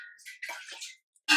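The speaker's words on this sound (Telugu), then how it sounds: "ఇక వాటర్ పోసేస్తుంది. ఒక గ్లాస్ పోస్తుంది." A glass of water is poured into a pot while cooking Telangana-style chamagadda pulusu, a taro and tamarind curry. It makes a brief, quiet, close splashing trickle, then a short louder gush at the end.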